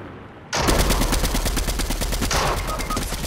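Rapid, continuous video game gunfire erupts after a brief quiet start, loud and close, with sustained automatic bursts in a steady rattling rhythm that runs to the end.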